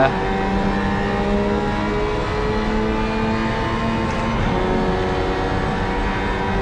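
A sustained, steady engine drone with layered harmonic tones from a Lamborghini Sián FKP 37 in Project CARS 3 at Fuji Speedway, loud and constant throughout like a car holding high revs at speed.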